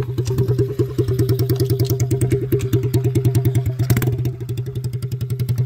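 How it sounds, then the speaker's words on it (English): A motorcycle engine held in neutral, throttled hard toward redline, gives a loud, close, rapid and steady pulsing drone that runs the whole time without talk. "Put it in neutral and redline it for a minute."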